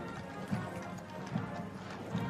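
Hooves of Blues and Royals cavalry horses, with the drum horse, clip-clopping in Queen Elizabeth II's state funeral procession near Wellington Arch, London: regular, moderately distant hoof beats over a soft crowd ambience.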